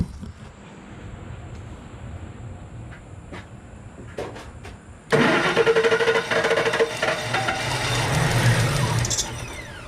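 A Jeep engine cranks for a long stretch and then catches, jumping to a loud, steady running roar that carries on to the end, with some faint clicks and knocks before it fires.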